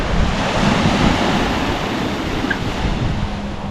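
Waves on a Florida Panhandle beach with white sand, a loud, continuous wash of surf mixed with steady wind buffeting the microphone.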